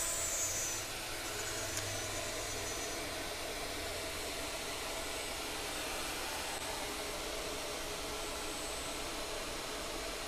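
A Shaper Origin handheld CNC router cuts to a half-inch depth during bent lamination work, giving a steady, loud whining roar that runs unbroken and alone from start to finish.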